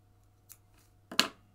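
Scissors trimming the yarn of small crocheted scarlet macaw wings, two quick snips close and faint in a quiet room, the second louder and crisper.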